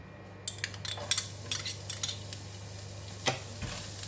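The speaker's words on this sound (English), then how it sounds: "In the same pan, I left a little bit of oil and I'm going to fry the garlic." Garlic frying in a little leftover oil in a pan for black pepper tofu gives a soft crackling sizzle with light metal spatula scrapes and taps, fairly quiet, over a low steady hum.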